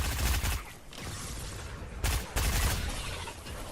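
Mini carbine gunfire in a Fortnite creative zombie map, loud, dense bursts of rapid shots in two clusters separated by a short lull, with continuous noisy game action between.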